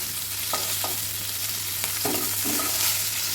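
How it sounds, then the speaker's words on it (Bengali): Cauliflower pieces are stirred and fried in hot oil in a Bengali kitchen, a continuous loud sizzle broken by several scraping strokes of a spatula against the pan, with no talking. "এবার খুব সুন্দর করে আমি নেড়ে নিয়ে ফুলকপিটা ভেজে নিচ্ছি।"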